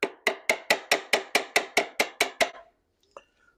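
A hammer taps a bit about a dozen times in an even, rapid rhythm while working on a neglected 1971 Honda CT70H motorcycle. The strikes are close and crisp, followed by one fainter knock.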